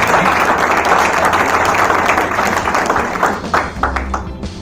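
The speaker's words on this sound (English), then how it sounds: "Let's give them a big round of applause." A large audience at a BNI Aphrodite business networking chapter's four-year anniversary celebration applauds, a dense, steady wash of clapping that fades slightly toward the end as scattered claps stand out.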